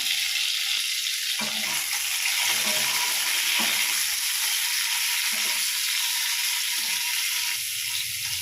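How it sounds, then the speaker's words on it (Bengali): Eggs frying lightly in oil with a pinch of salt, a steady close hissing sizzle that runs the whole time with small crackles and pops and no talking. "একদম অল্প করে ভেজে নেব ডিমটা।"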